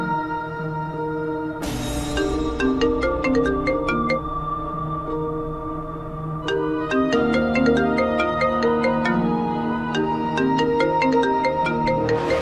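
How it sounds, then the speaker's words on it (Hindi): A phone ringtone plays on and on unanswered, a bright melodic electronic tune with steady chiming notes over a sustained backing, loud and continuous with no voices. "दानी फोन रिसीव नहीं कर रही है।"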